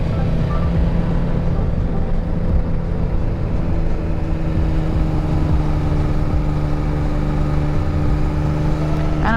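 A motorcycle cruises in a higher gear with a steady, even engine drone and a low hum, close and continuous for about nine seconds, with wind rush and no talk.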